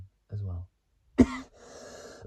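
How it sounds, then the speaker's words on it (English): Someone with a bad cold gives a single sharp, close cough, and a short vocal sound comes just before it, followed by a breathy exhale. "And still coughing as well."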